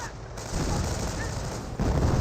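Sniper and rifle fire in the video game Company of Heroes, dense crackling battle gunfire with booming impacts, loud and continuous, a sharp surge of shots near the end.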